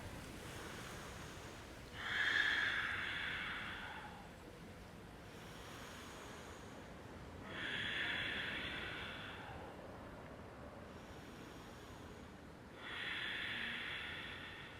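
Slow, deep breathing during a yoga pose, three long airy exhales spaced about five seconds apart, close to the microphone and hissing like surf, with quiet gaps between and no talking.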